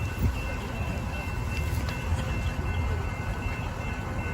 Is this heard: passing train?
yes